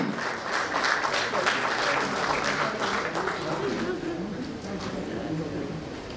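An audience at an evening event for a doctor-patient network launch gives a long round of dense applause, loud and sustained before gradually thinning toward the end, with some speech mixed in.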